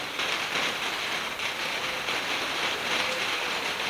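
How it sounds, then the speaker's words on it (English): Steady light rain hissing outdoors at the start of a shower during a home workout, a continuous even wash of drops with no talking. "it's just started to rain"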